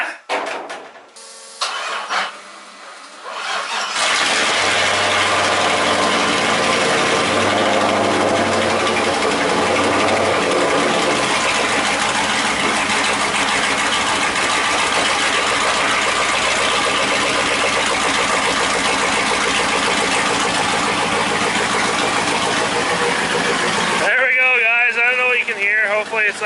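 A car with a custom exhaust, started cold on a chilly day, cranks briefly, then fires up and settles into a loud, steady rumbling idle that runs for over twenty seconds before cutting off.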